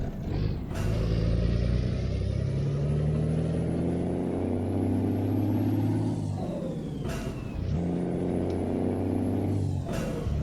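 A new shape Scania truck in Euro Truck Simulator 2 hums with a steady low engine drone, two short bursts of a rising whine from the turbo, and pneumatic air-brake hisses around the gear changes, with no talk.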